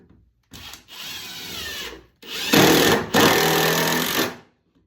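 A power drill drives screws into wood in two bursts, the motor whirring and straining with a brief pause between runs, loud and close with no talk.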